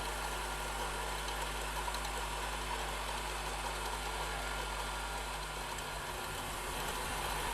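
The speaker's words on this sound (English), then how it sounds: "I'm glad I had this grinder attachment. Even with 24 volts, it still laboured when the full cut was attained." A 24-volt grinder attachment on a lathe grinds a metal sleeve for a 55 mm bearing bore, making a steady loud droning whine with a constant low hum that labours slightly toward the end, alone without speech.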